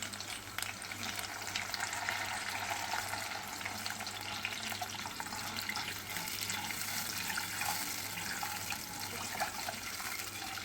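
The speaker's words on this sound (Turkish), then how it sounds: "Suyumuzu ekliyoruz." Water pours steadily into a pot of toasted tomato paste for Uşak-style tarhana soup, a continuous hissing, bubbling wash that stays even and fairly quiet throughout.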